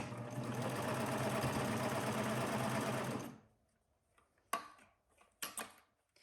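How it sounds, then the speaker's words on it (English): A serger sewing machine runs fast along the raw edges of fabric, a dense loud whirring buzz for about three seconds, then stops, leaving a few faint clicks and handling sounds. "Okay, so making sure that I have my 2 raw edges lined up. I am going to serge."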